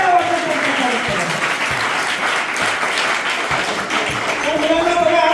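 About 110 children at an ashram school clap loudly and continuously to welcome guests at a birthday celebration, a dense, even burst of applause with voices faintly mixed in.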